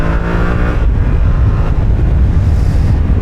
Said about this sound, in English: We'll get on that throttle and open it up.